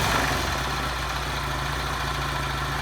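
A 2008 Kawasaki KLX110 dirt bike engine, just back from a top end rebuild, idles steadily with an even, close, mid-pitched putter and no voices over it.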